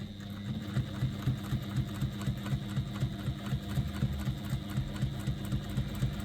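A sewing machine topstitches along a fabric edge about an eighth of an inch in, running continuously up close with a steady, rapid mechanical chatter.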